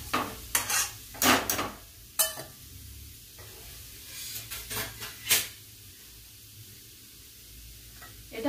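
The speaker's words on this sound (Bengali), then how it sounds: "কাঁচা জিনিসটা 3-4 মিনিট আমি নেড়ে নিচ্ছি" Raw grated carrot for gajar halwa is stirred in a pan, sharp spatula scrapes and clinks against metal in short irregular bursts, separated by quieter pauses, close and distinct.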